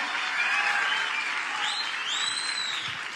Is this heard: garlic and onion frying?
no